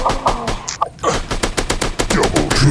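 Rapid gunfire from a mobile first-person shooter game, loud and up close, with sharp repeated shots in a fast burst after a brief pause, over busy game sound effects.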